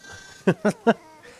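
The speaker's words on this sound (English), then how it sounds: "Wow, that's a lot of sheep." Three short sheep bleats in quick succession in the video game The Last of Us Part II, fairly close, over a quiet ambient background.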